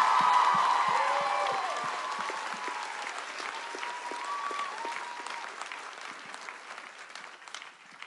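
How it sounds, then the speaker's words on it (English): Audience applause at a convention panel, a loud sustained round of clapping from a crowd that starts strong and slowly thins out over several seconds, with a few faint voices mixed in. "So just a round of applause for those people."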